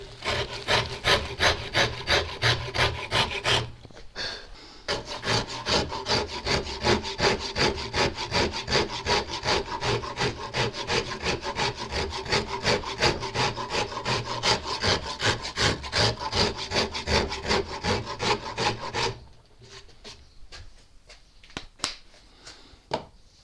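A wooden guitar neck carved and shaped by hand, steady rhythmic rasping strokes scraping the wood, close and loud, with a brief pause early on and a few scattered scrapes trailing off at the end.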